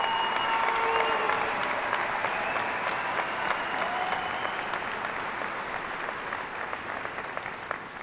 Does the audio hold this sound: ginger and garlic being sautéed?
no